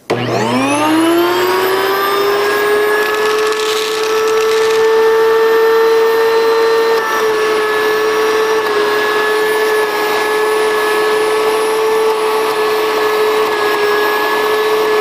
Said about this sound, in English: You can hear the beans going through one by one.